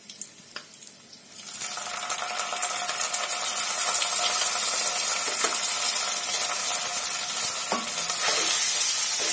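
Ginger paste goes into a pan of frying fish head moong dal; a soft start gives way after about a second and a half to a loud, close, steady sizzle and stirring that carries on with no voices.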